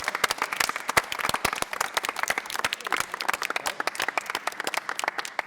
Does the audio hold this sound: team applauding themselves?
yes